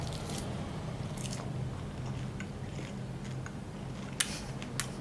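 Someone bites and chews a crunchy dried little fish snack, with a few faint crisp crunches above a steady background hum and no speech.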